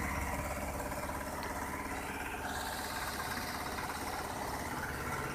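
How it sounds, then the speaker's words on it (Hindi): A small tractor engine drives a water pump outdoors, a steady close mechanical drone with constant vibration and no change in pace throughout, with no voices over it. "एक छोटा सा ट्रैक्टर है।"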